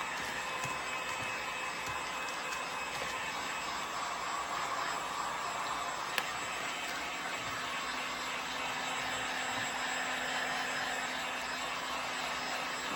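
A steady, whooshing blower drones continuously at close range, a constant airy hum with a faint whine and no talking.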